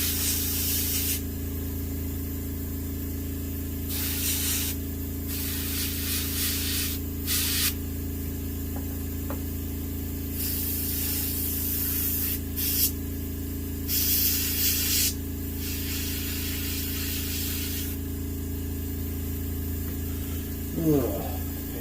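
Spray bursts of yellow ochre paint, applied as a medium coat to a standing hooded merganser mount, come in repeated hissing blasts of a few seconds each, with a steady hum underneath and no talk.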